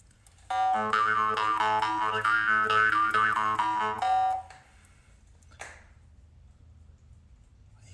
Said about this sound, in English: I hear some minor pinging back here on the frame.